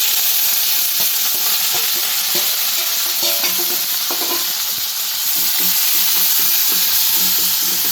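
Fried okra and curry leaves sizzle in hot oil with mustard seeds, a loud continuous crackling hiss with stirring scrapes and pops, close up and without talk.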